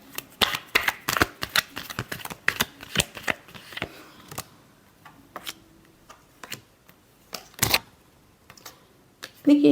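Tarot cards being shuffled for a weekly horoscope reading make a quick run of crisp riffling snaps, followed by sparser taps and slides of cards, close and clear, with a few soft spoken words in between.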